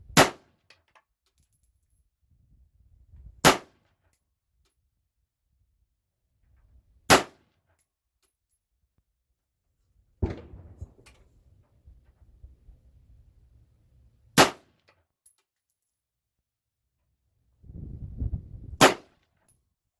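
A Tavor rifle fires Barnes 69 grain MatchBurner loads at a shooting range, giving five sharp, loud single shots spaced a few seconds apart, each with a short ringing tail and faint handling noise between them.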